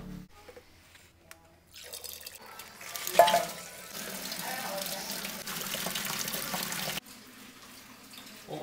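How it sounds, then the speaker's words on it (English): Wort, the sugary liquid drained from the grain mash, runs into a boiling kettle during homebrewing of a California Common beer, a steady trickling splash that builds after a quiet start and carries on alone until near the end. "down here we have wort, which is the sugar water from the grain, flowing into our boiling kettle"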